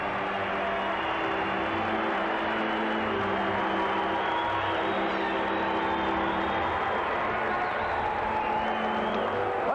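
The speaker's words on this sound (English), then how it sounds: "Let's just listen to this crowd and enjoy the atmosphere of Boston Garden for a moment." Ice hockey crowd at Boston Garden as the Bruins take the ice: a steady wash of arena murmur, scattered cheers and clapping, fairly distant and even in level throughout.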